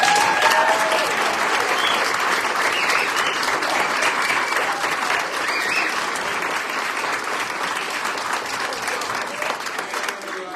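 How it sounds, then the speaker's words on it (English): An audience at a council meeting applauds a champion boys intermediate school soccer team, a dense, steady wash of clapping that holds strong for about ten seconds before easing slightly. "How about a big round of applause?"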